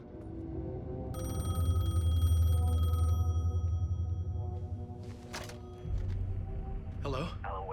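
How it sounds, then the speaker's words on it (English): An in-game payphone in Alan Wake 2 rings with a steady electronic trill, the bell tone holding for a couple of seconds over a low rumbling ambience before fading, followed by shuffling noises and a brief vocal sound. "The payphone was ringing."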